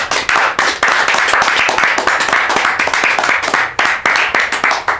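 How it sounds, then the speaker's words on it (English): A lively round of applause with some distinct claps standing out: loud, close, continuous hand clapping from an audience greeting a guest, steady throughout with a few brief dips. "I need a round of applause,"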